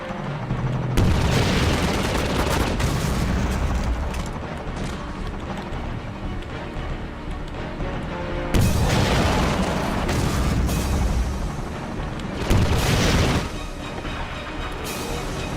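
Rocket explosions in a Half-Life 2 game session, heavy booming blasts with rumbling tails, a long roaring burst followed by two more loud detonations, close and dominant with no talk.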